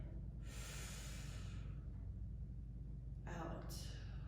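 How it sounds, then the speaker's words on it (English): A single deep inhale during a guided meditation breathing exercise for stress relief, an airy rush of breath lasting about a second, followed by a quieter second breath a few moments later, close and soft over a low background hum. "Deep breath in,"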